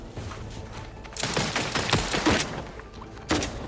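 Gunfire in the video game Outer Worlds 2, a burst of rapid shots that grows louder and continues in ragged volleys, with a sharp loud burst near the end.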